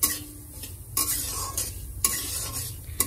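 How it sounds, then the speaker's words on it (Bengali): Dal lentils frying in a pan as a spoon scrapes and stirs them, with a soft sizzle underneath and sharp scraping strokes about once a second, close and clear, with no voices. "ডাল রান্না করবো বলে দেখো ডালটা ভেজে নিচ্ছি"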